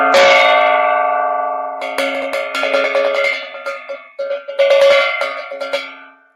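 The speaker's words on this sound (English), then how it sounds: "you're banging that gong like you should be" A struck metal gong rings out loudly with bright sustained overtones, several hits spaced across the clip, each bloom decaying before the next strike, no voices.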